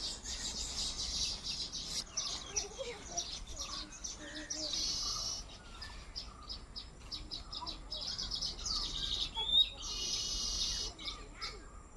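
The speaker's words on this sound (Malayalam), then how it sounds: "ഇവിടെ മൊത്തം കുരുവിക്കൂടാണ്, അതാണ് ഇത്ര ചിലയ്ക്കുന്ന സൗണ്ട് കേൾക്കുന്നത്" House sparrows chirping around their nests at a house, a dense, continuous chorus of bright twittering calls near and far throughout.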